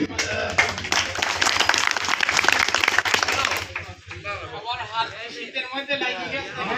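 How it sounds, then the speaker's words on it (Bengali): A burst of applause from a crowd at a large public rally fills the first few seconds, then fades as a voice takes over. "আমরা সবাই সবান্ধব করতালির মাধ্যমে সুস্বাগতম জানাবো"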